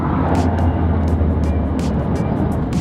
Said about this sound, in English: the brakes are done on it and it's metal grinding metal.